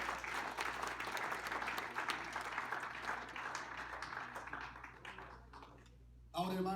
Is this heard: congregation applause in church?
yes